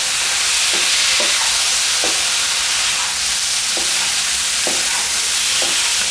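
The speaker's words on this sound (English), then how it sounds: "I'll just toss the prawns with this spices and ingredients over here," Salt and pepper prawns tossed with spices in a hot pan, giving a steady loud sizzle and frying hiss with several short scraping stirs spaced through it, no voices.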